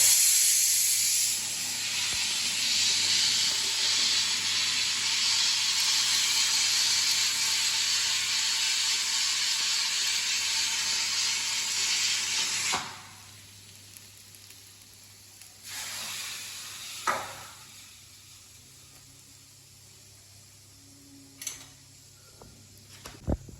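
Hot spiced tempering hits chopped ivy gourd pieces with a loud, steady hiss that lasts about thirteen seconds, then drops to quiet with a few scattered clicks and knocks.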